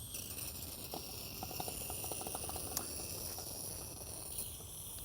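An Optimus camping stove burns with its gas switched on, a steady close hiss running evenly throughout, with faint small clicks and crackles scattered on top.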